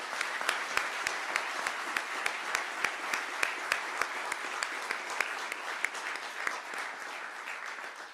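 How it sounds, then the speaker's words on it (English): Audience applause at a defense research center announcement, a steady wash of many hands clapping with sharp individual claps poking through, sustained and fairly even before tapering at the end. "Let's give all of these people a big round of applause."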